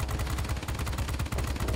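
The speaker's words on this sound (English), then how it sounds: "We have two 30mm cannons." Twin 30mm cannons on a Bv P.203 warplane in World of Warplanes fire a rapid, unbroken stream of heavy booming shots, loud and close throughout.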